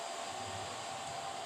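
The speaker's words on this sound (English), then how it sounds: "And my Nana is vacuuming." Vacuum cleaner running in another room, a steady muffled whooshing drone that stays constant and fairly faint throughout.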